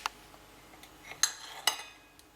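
A knife slicing a single honey-glazed mushroom on a plate: a few sharp metallic clinks and taps, two louder ones close together, over near silence, close and fairly quiet, with no voices.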